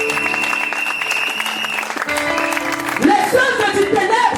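A church congregation applauds the Lord in a dense, sustained wash of clapping that fills the room, with held tones and voices mixed in and a livelier, rising swell of cheering toward the end.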